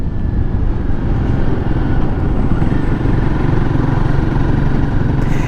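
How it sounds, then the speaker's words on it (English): A Royal Enfield Guerrilla 450 motorcycle engine runs loud and close, a dense continuous rumble with a steady throb throughout, no voices over it. "I must admit, this bike is running nice now."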